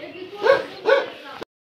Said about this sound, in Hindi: इसलिए वो भौंक रहा है।